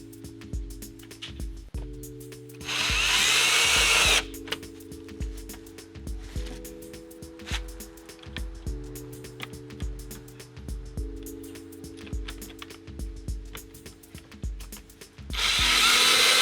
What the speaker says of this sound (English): So these are self-tapping screws, so we don't need anything additional other than just our drill.